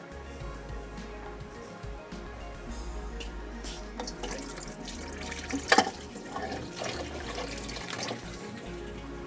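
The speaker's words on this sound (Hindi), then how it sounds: "यहाँ पे पानी में जो है उबाल आ गया है" A pot of water at a rolling boil on the stove, ready for rice, gives a steady, close bubbling and churning wash that holds through the whole stretch with no talk.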